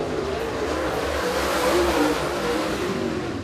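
A super late model race car laps Eriez Speedway during qualifying, a loud sustained engine roar at steady high revs with a slight swell in the middle.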